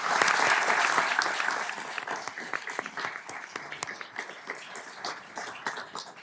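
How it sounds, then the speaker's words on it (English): Applause at a city council meeting for a boys soccer team that won a state championship, a full round of clapping loud at first, then thinning into scattered claps. "So let's give them a big round of applause."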